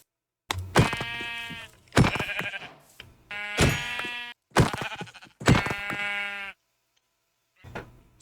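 Blocky Minecraft sheep bleat in a survival world, five loud, nasal, wavering calls in a row, each about a second long with short gaps, then a softer sixth bleat near the end.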